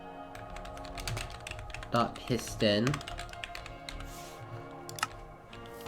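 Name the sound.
typing on a computer keyboard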